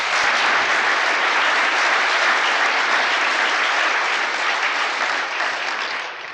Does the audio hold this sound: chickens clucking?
no